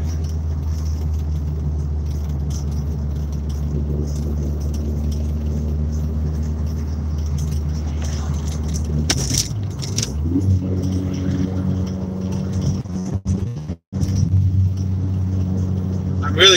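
Steady low engine drone and road rumble from a car driving on the road, running smoothly like a stock car, heard from inside the cabin throughout, with a brief dip and shift around the middle.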